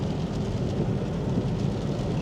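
Torrential rain pouring down in Blackpool during a thunderstorm, a dense continuous roaring wash of heavy rainfall, loud and steady with no voices.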